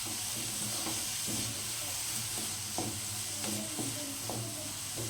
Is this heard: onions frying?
yes